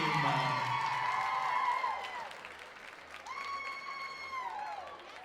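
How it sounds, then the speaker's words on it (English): Audience at a dance competition awards ceremony applauding and cheering junior solo winners, a broad wash of clapping with high whoops rising over it, fading midway and then swelling again. "Let's have one more big round of applause for our top 10 scores for our junior solos"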